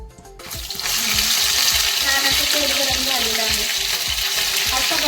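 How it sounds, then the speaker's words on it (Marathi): A ground masala paste frying in hot oil over medium heat for dhaba-style egg curry, a loud sizzle that bursts in after a short quiet start, with rhythmic stirring scrapes underneath. "मसाला आपण याच्यामध्ये छान परतून घेऊयात"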